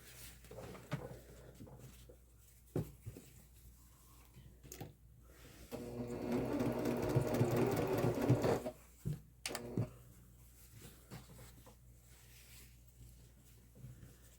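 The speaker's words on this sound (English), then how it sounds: "I'm going to back stitch at the top and at the end" A sewing machine back stitches a fabric tube for a messenger bag strap, running in one steady rapid burst of a few seconds, with quiet handling knocks and fabric rustle before and after.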